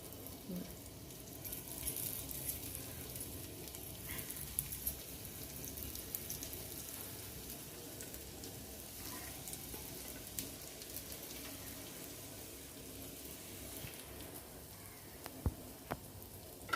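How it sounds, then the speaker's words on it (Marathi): Corn cutlets, or tikki, shallow-fry in oil on a griddle, giving a steady soft sizzle and crackle with a few small pops and clinks, fairly quiet and close. "तर आता आपण ह्या शॅलो फ्राय करून घेणार आहोत"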